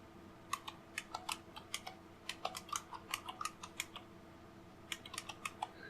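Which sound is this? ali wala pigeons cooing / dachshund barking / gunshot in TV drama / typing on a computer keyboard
typing on a computer keyboard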